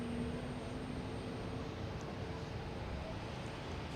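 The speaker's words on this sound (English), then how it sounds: "JetBlue heading to Raleigh-Durham, A320." A JetBlue Airbus A320 jet departs for Raleigh-Durham, heard as a steady, broad, distant roar of engine noise holding at a constant level throughout, with a faint tonal whine.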